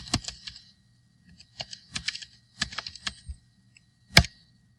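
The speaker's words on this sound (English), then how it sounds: "if we want to start recording, we can just type in start recording" Keys tapped on a computer keyboard while entering a command: short bursts of quick clicks separated by brief pauses, ending in one harder keystroke.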